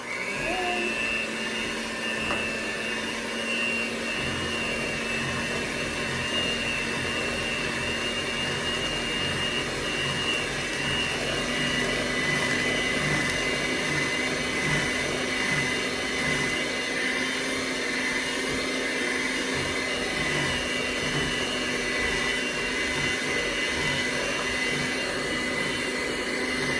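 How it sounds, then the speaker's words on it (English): A kitchen blender runs on high while mixing a sugar-free keto cheesecake batter, producing a steady, loud motor whine that holds unbroken for nearly half a minute with no talking over it. "Here's your blender."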